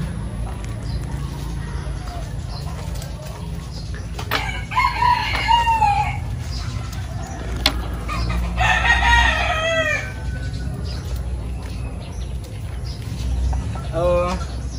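Chickens cluck and a rooster crows a couple of times over a steady low background hum, with scattered bird calls nearby.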